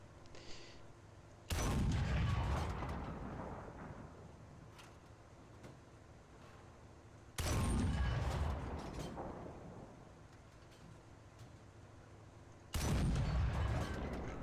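Three heavy tank cannon shots from a T-34-57 fired at a Tiger II in a video game, each a loud boom followed by a long rumbling decay, evenly spaced several seconds apart.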